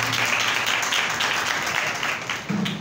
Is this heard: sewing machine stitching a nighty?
no